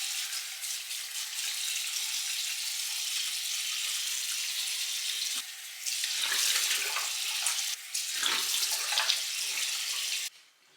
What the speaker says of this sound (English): We gotta wash our face.